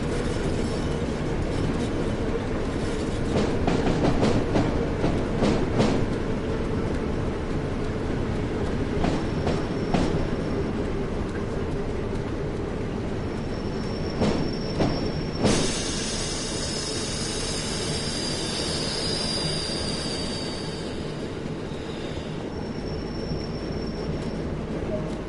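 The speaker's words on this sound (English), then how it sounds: "I think we should start applying some brake." Train braking in Train Sim World on the Tees Valley Line: a steady rolling rumble with rhythmic wheel clicks, then high, sustained squeals of wheels on rails that fade out as the train slows.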